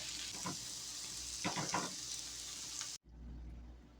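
Zucchini and sausage fry in a stir-fry skillet with a steady, close hiss and a few stirring scrapes, then the sizzle cuts off abruptly and a quieter low background remains.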